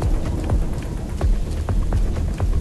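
Rain falls in the survival video game LifeAfter, a steady patter of drops with low rumbling thumps underneath, moderately loud and with no talking.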